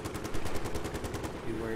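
Rapid machine-gun fire in a jet-versus-helicopter video game battle, a steady fast rattle of shots aimed at a helicopter, fairly loud, thinning out near the end with an engine hum.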